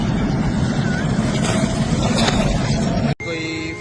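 Fighter jets circling overhead in Pakistan during an air attack near the Nur Khan base: a loud, continuous broadband roar that fills the clip, briefly cutting out near the end before resuming.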